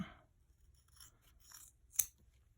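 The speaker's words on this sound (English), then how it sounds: "these scissors are really good" A few quiet snips of scissors cutting through material, close by in near silence, ending with one sharper cut.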